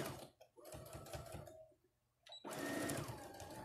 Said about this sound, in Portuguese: Eu tô passando uma costura bem no meio da minha bolsa, pra além de criar uma divisão